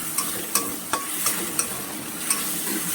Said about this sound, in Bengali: চিংড়ি মাছগুলো একদম পুরো ভালো করে ভেজে নিতে হবে অল্প করে।